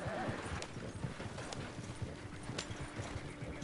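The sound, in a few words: horse hooves pulling a wagon in video game Red Dead Online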